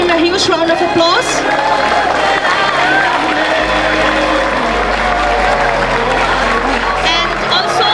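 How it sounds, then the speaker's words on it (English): Loud, steady applause and crowd cheering for a guest at a school science and art exhibition, with whoops and voices mixed into a continuous roar and a deep low hum underneath. "Please give him a huge round of applause."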